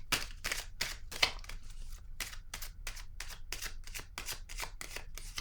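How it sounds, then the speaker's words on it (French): Tarot cards shuffled and laid down on a table, a quick series of sharp riffling snaps and flicks in an even, close rhythm, fairly quiet and with no talking. "Je vais déposer une carte."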